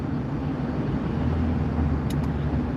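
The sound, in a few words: car driving on the interstate at 45 mph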